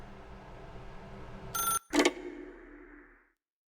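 A telephone rings briefly in The Stanley Parable video game, with a short electronic ring, a pause and a second burst. Soft ambient noise sits underneath, then the sound fades to silence.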